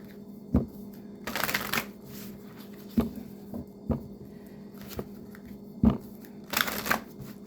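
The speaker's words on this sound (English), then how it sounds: "these cards are enormous, so it's going to take me a little minute to shuffle them" Large tarot cards are shuffled by hand in repeated bursts, with soft riffling swishes and occasional sharp taps, close and fairly quiet.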